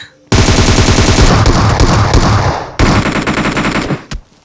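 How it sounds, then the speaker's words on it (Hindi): Heavy automatic gunfire in a battle royale video game: loud, close, rapid bursts of machine-gun fire, a brief gap, then another sustained burst before it stops. "क्योंकि यहाँ पे फायरिंग चल रही थी ज़बरदस्त"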